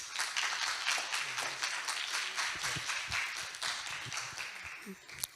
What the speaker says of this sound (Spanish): recibamos con un fuerte aplauso al experto en fasioterapia, Hugo Lobato.